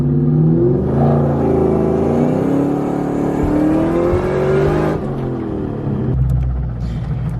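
A 2003–2004 Mustang Cobra engine held at steady high revs while the clutch slips, a loud close rumbling whine that drops in pitch near the end, with no talking.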